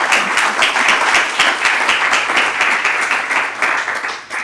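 A hall audience at a Slovenian government awards ceremony for Slovenians abroad claps steadily, a dense, loud round of applause that holds for several seconds before easing slightly.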